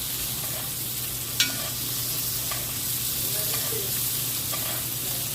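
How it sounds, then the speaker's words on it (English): A ribeye steak sizzles loudly in a cast iron skillet while a spoon bastes it with butter, with a steady dense frying hiss and occasional faint spoon clicks. "Just wash that thing in that butter like that"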